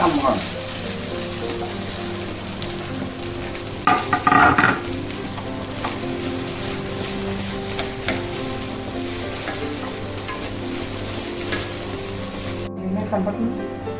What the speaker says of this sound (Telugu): కొబ్బరి వేయించుకోవాలి కొద్దిగా నెయ్యి వేయించుకుంటే